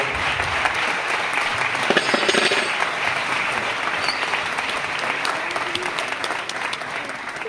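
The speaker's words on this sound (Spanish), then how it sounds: "Un aplauso." Applause from an audience at a music conservatory's end-of-year gala: continuous, thick clapping from many hands, fairly loud and even, tapering slightly toward the end.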